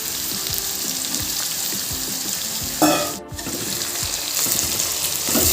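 Beetroot frying for veg chowmein, a loud continuous sizzle with soft stirring scrapes and one brief sharp burst near the middle, with no talking.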